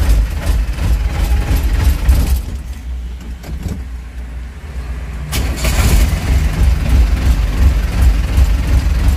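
A 2009 Thaco turbo light truck rated for 830 kg runs with a steady, loud engine rumble. The running sound drops away briefly partway through, then returns strongly and keeps going close to the listener.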